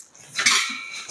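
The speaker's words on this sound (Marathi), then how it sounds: "मसाल्याच्या भांड्यातला चमचा बहुतेक." A spoon rattles briefly inside a metal spice container from a new kitchen set, one short close metallic clink and jangle lasting under a second.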